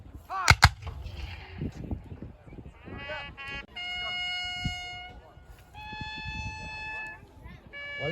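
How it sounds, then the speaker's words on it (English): A Civil War reenactment with a breech-loading rifle and repeater rifles: one loud nearby crack early on, then an announcer talking over sustained horn-like tones and crowd noise. "And again, with one of the most advanced weapons, that breech-loading rifle."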